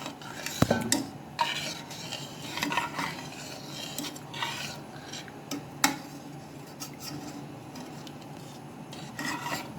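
A spoon scrapes and stirs semolina with water around a pan steadily, with irregular metallic clinks and rasping strokes throughout, no talking.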